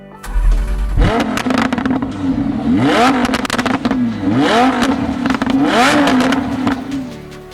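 Lamborghini Huracán Tecnica with a naturally aspirated 5.2-liter V10 starts up and revs loudly in close repeated sweeps, rising and falling with crackles between, over a steady idle.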